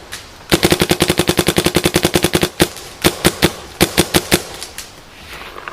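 Nerf blaster with a poppet valve fires a long rapid burst of sharp, evenly spaced shots, then several slower single shots follow after a brief pause, loud and close with no talking.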